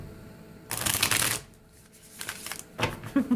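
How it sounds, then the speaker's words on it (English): Tarot cards are shuffled in two quick riffling bursts close to the microphone, separated by a short quiet pause, with a soft tap at the end. "I'm getting some awkward shuffling here."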